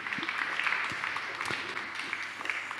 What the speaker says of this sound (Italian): Un applauso a lei che non è presente.